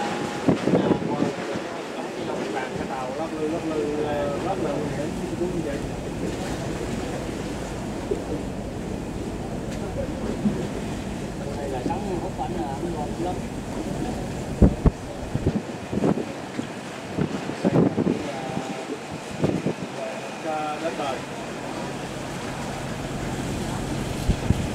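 A fishing boat runs through rough, storm-tossed sea, its engine droning under heavy wind buffeting and crashing waves, with voices talking at times and a few sharp knocks near the end.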